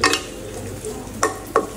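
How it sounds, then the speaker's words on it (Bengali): Parathas fry in a pan with a close hiss and sizzle, and two sharp utensil scrapes or taps near the end. "3টা পরোটা ভাজছি, আরেকটা ভাজতেছি।"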